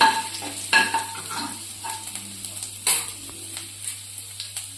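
Garlic sizzles in a hot pan over a gas flame while it is stirred, with a steady frying hiss and scattered scraping taps from the spoon, close and fairly quiet.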